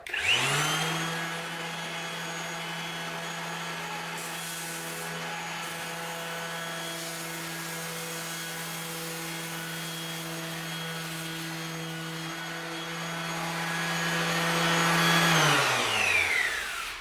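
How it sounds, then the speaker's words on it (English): Power tool freehand chamfering the edge of a wood slab, a steady loud motor whine with a high cutting tone that holds for over fifteen seconds and rises slightly toward the end before winding down. "I'm gonna try to do a little tiny chamfer on the bottom just to see what it would look like"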